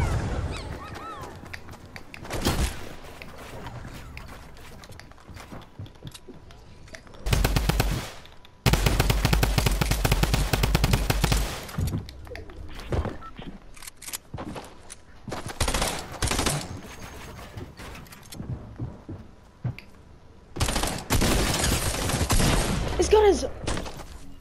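A burst-fire SMG in a shooter video game lets off repeated rapid bursts, loud and close, in clusters separated by quieter gaps, with a player talking faintly in between.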